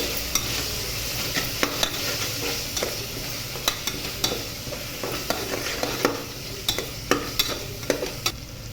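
Spoon stirring turmeric and chilli powder through a pan for tomato rice, steady scraping with sharp intermittent clinks over a low continuous sizzle, close and alone.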